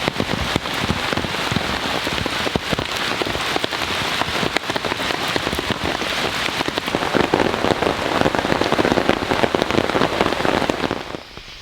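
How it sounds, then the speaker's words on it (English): Heavy rain pelts a Wildlands UL2 ultralight tent at night during a storm, a dense, loud, close patter of drops drumming on the fabric without pause. "this tent has taken a beating from all of the rain that we've received today"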